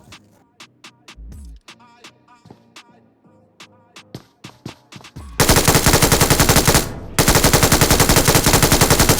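Gunfire in the mobile battle-royale game PUBG Mobile (BGMI) starts as scattered single shots and short bursts, then becomes loud sustained automatic fire that breaks off once and starts again.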